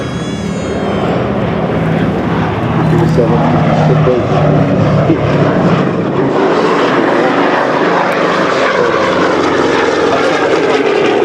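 The B-17G Flying Fortress Sally B and a P-47 fly past together, their piston engines giving a loud, continuous propeller drone that swells and holds across the pass.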